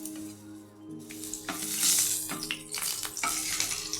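Whole cinnamon, a cracked cardamom pod, two cloves and bay leaves sizzle loudly in hot oil in a pan for tempering, with crackling bursts and stirring scrapes, close up and without talk.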